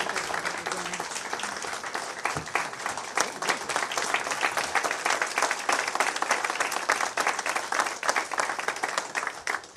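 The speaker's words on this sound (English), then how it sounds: "if everybody would give her a big round of applause" Steady applause from an audience at a school board meeting fills the room, dense and continuous for about ten seconds without letting up.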